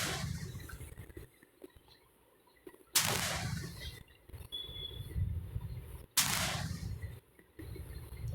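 Rocket launcher blasts in the mobile game Indian Bike Driving 3D, two sharp loud bursts a few seconds apart, each trailing off into a rumbling decay over game background noise.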